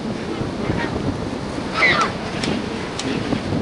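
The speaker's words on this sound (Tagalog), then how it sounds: "Maalon." Rough sea waves at a beach resort, a continuous close wash of surf mixed with heavy wind buffeting the microphone, with a faint voice briefly audible.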